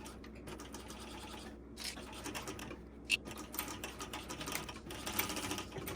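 A sewing machine stitches a bag seam in quick mechanical bursts, with rapid ticking runs broken by short pauses. It sounds close and fairly quiet, and no one speaks.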